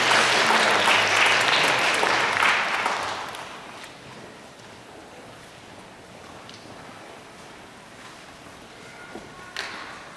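A church congregation claps together in a loud burst of applause that fades out after a few seconds, leaving a quiet room with a few faint knocks and rustles.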